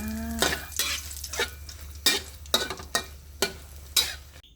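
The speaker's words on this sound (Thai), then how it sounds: "นำพริกมาทอดนะคะ ทอดเลยจ้า" Dried chilies frying in a pan of oil for a Thai chili paste with crispy pork cracklings, with a background sizzle and about seven rhythmic scraping and stirring strokes of a utensil against the pan. No one speaks.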